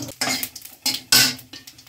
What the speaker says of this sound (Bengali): দিচ্ছি কড়াইতে সর্ষের তেল, শুকনো লঙ্কা ফোড়ন দিয়েছি, জিরে ফোড়ন দিচ্ছি